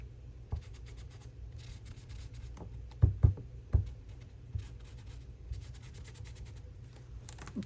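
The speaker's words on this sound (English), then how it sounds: "I can still write over this." A pen writes on paper in a daily journal: soft, close scratching strokes with a few sharper taps and scrapes, faint and quiet against a low steady hum.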